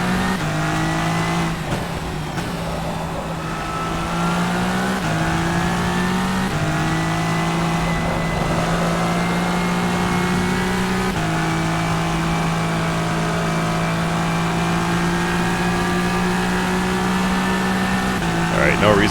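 Le Mans LMDh hypercar engine in rFactor 2 screams through gear changes, its steady high whine rising and dropping in pitch at each shift, loud and continuous with someone talking over parts of it.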